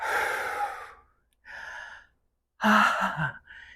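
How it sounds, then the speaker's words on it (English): A person breathes out forcefully during a workout: three audible exhales, with a long, breathy first one, a shorter second, and a louder, throaty final breath, close to the ear with pauses between. "and breathe out."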